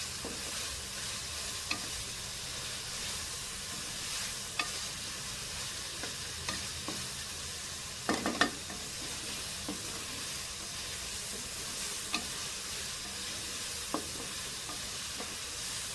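Chicken pieces frying in a pan for chicken jalfrezi give a steady, soft sizzle with occasional stirring scrapes and clinks, fairly quiet and continuous, with no talking.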